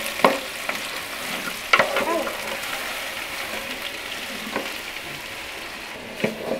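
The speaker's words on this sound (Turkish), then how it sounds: "Əvvəlcə ay şəklində doğradığımız soğanları bir az az miqdarda yağda öldürürük." Crescent-sliced onions fry in a small amount of oil in a pot, giving a steady loud sizzle with the occasional stir or scrape of a utensil.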